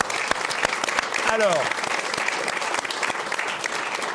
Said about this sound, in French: Donc on peut même vous applaudir d'ailleurs.